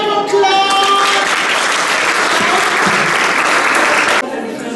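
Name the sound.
applause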